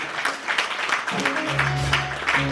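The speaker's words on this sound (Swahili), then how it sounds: "tungependa pia tuwapatie makofi ya shukrani" Applause of thanks from a congregation at a church children's dedication service on a prayer mountain, dense clapping under talk that carries on through it.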